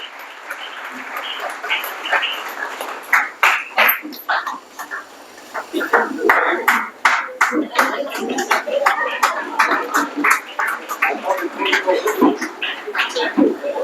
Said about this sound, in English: So, ladies and gentlemen, a huge round of applause for Mr. Limatwala and for all that he has al